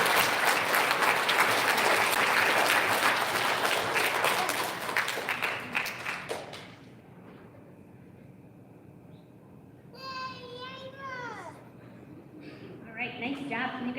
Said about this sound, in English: Big round of applause for our second graders.